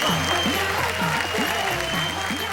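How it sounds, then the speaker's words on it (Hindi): An audience at a comedy poetry stage show gives loud, sustained applause, dense clapping filling the whole stretch without a break, with cheers faintly mixed in. "जोरदार तालियों से स्वागत करेंगे"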